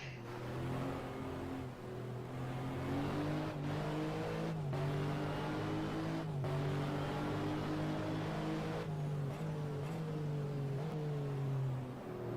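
Game engines of GT race cars roar through a simulated FIA GT 500 km round at Budapest, a loud, continuous close drone whose pitch climbs and drops with gear changes, with no talking.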